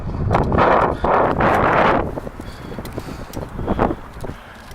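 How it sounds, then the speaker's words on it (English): Strong gusts of wind buffet the microphone at a flooded coastal marina during a bomb cyclone, with loud roaring bursts in the first two seconds, then lighter rustling and another gust. "It's windy, I'm getting cold"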